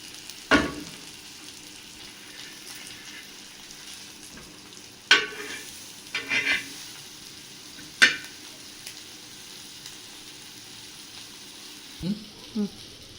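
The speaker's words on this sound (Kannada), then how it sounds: "ಈ ಥರ ಫ್ರೈ ಆಗಲಿ 1 ನಿಮಿಷ." Coated fish shallow-frying on a hot tawa gives a faint, steady low sizzle, broken by a few sharp clicks and scrapes as pieces are turned.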